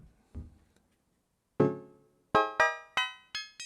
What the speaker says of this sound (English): Reverb just makes everything magical.